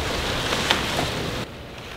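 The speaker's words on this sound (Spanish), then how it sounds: "Justamente viene la parte de pintar y empieza a llover." Rain beginning to fall outdoors makes a steady, dense hiss of drops on surfaces with a few faint taps, then drops abruptly to a softer, duller patter near the end.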